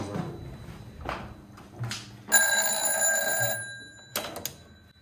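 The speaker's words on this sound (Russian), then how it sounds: "Это в лифте работает телефон." A telephone rings inside the elevator of a nuclear missile silo twelve floors underground: one loud, harsh electric bell burst lasting about a second, then a shorter second ring, with faint footsteps and shuffling before it.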